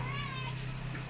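A cat meows near a home kitchen while curry is being cooked, a short high mewing call rising over a steady low hum.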